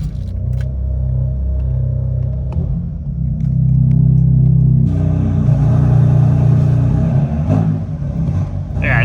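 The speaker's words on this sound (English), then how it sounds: "let's turn on the car because you haven't heard it before." A stock BMW car engine idles with a deep loud rumble, rising into a fuller revving growl midway before settling, with a voice briefly heard over it.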